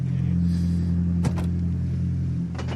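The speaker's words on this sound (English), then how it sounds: "just listening to the beautiful sound of that car" A rally car's engine runs on the SS8 Ellis 1 forest stage, holding a steady, close, low droning tone broken by a couple of brief clunks, with no talk.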